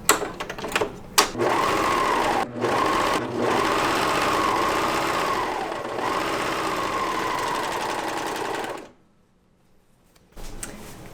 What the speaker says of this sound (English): And now I'm going to sew this seam with my serger with a 5/8 inch seam allowance.